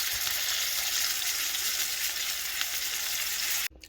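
Chicken sears in a Le Creuset enamel cast iron pan, a loud, steady, close hiss of sizzling fat that cuts off abruptly at the end.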